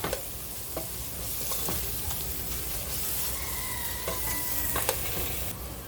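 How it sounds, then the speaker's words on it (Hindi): Whole spices and masala frying for a 1 kg chicken degi biryani, with steady dense sizzling and a spoon scraping and stirring through the pan, close and continuous without talk. "अच्छे से भुनेंगे खुशबू आने तक"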